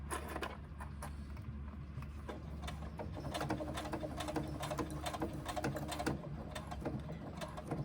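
A sewing machine stitches a basting seam on a pouch, a close, steady run of rapid mechanical ticking and whirring that grows slightly louder and busier after the first few seconds and continues without pause.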